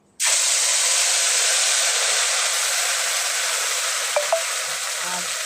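Green chili, ginger and onion paste hits hot oil with a sudden loud sizzle that holds steady and close, a dense frying hiss that eases only slightly, with a couple of faint clinks near the end.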